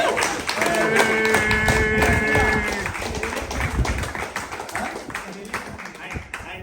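An audience claps and applauds at a reunion gathering, with scattered rapid clapping under a sustained musical tone and voices that gradually fade toward the end.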